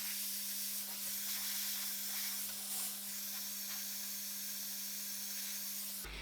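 A hair dryer blowing on short hair while a small brush works through it, a constant faint airy hiss with a steady motor hum underneath, brushing rustles scattered through, cutting off abruptly at the end.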